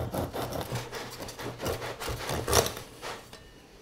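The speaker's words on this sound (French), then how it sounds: "La première étape, on va couper le pain." A knife saws through a loaf of bread to lift off its top, giving repeated close rasping strokes with a sharper crunch near the end, then slowing to quiet.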